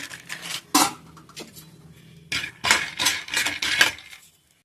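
Peanuts roasting in a pan are stirred in short irregular bursts of close clattering and scraping, separated by quieter pauses, with no talking.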